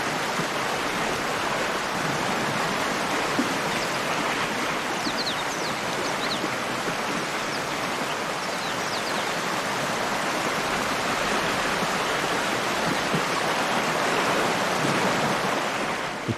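A continuous roar of a swollen African river in flood at the end of the dry season, broad and steady, surging past, with faint higher calls drifting over it.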